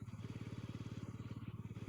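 A scooter engine idles with its radiator unscrewed, a fast and even putter of regular low pulses.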